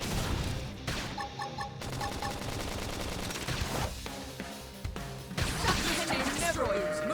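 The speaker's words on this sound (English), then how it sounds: "Flame grenade!" A flame grenade detonating in the Xenoblade Chronicles X combat, a dense burst of crackling impacts and whooshing fire over battle music, with characters shouting battle cries throughout.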